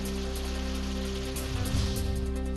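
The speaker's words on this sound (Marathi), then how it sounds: "नंदुरबारच्या तोरणमाळ परिसरात जोरदार पाऊस।" Heavy rain pours steadily across the Toranmal area in Nandurbar, a dense continuous hiss with a low rumbling bed underneath, loud and unbroken for the whole span.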